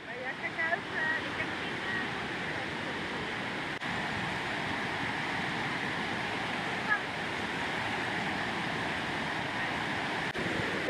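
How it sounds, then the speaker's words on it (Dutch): Running water flows down a rocky hiking path at Cirque de Baume, a steady broadband rush heard close by and continuous throughout, with faint wind and occasional footsteps or small knocks. "Kijk, zijn we nog niet eens beneden en loopt het hier al water."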